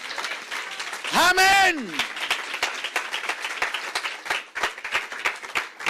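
A church congregation breaks into applause during a sermon, a burst of clapping and cheering after a spoken amen, then scattered claps continue under light talk.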